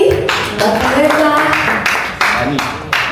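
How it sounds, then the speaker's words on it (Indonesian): A church congregation clapping their hands during a worship service, a fairly loud burst of rhythmic claps with voices mixed in. "Tepuk tangan sekali lagi."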